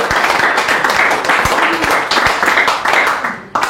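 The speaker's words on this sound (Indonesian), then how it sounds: "Tepuk tangan, jangan tanggung-tanggung." Church congregation clapping hands together, a dense steady wash of claps with a few sharper individual claps standing out, continuing loud for several seconds before cutting off abruptly near the end.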